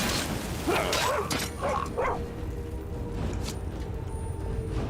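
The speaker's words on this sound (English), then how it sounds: "They're shooting arrows at a dog." A dog in the video game Skyrim barks and yips in a quick cluster of loud, close calls, then falls silent over steady game ambience.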